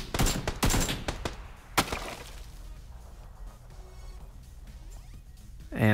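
Loud gunfire in a shooter video game, a cluster of rapid shots and sharp cracks early on, then quieter scattered shots and ambient battlefield noise, with no talking.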